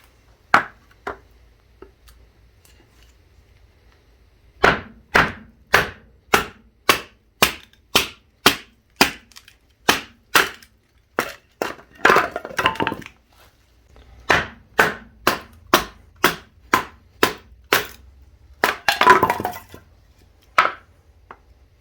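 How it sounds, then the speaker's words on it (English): A Cold Steel Recon Tanto combat knife is batoned through wood, giving sharp, evenly spaced knocking strikes in steady runs, with a few rougher splitting crunches mixed in, close and loud with no talking. "Now let's see how well this combat knife can baton some wood."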